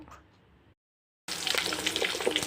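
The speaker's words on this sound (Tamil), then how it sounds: "இப்போது அதே கடாயில் நல்லெண்ணெய் தாராளமாக விட்டுக்கோங்க" Sesame oil heats in a kadai, falling quiet briefly before breaking into a close, busy sizzle with crackles and spits for the last second or so.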